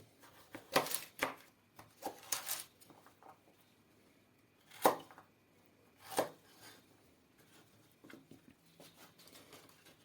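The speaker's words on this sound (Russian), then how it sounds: "Следом идет морковочка, тоже нарезаем ее кубиками." Sharp knife chops strike a board, quiet and close, in scattered clusters of quick taps with pauses between, as a carrot is cut into cubes.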